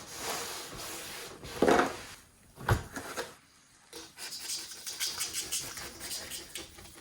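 Quiet, gritty scraping of a razor blade held fairly flat across the quarter window glass of a Fox-body Ford Mustang, a few rough strokes and a thud, then a longer run of rasping scrapes.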